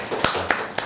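A few hand claps during a formal address to school principals: three sharp, evenly spaced claps close by, each short and crisp.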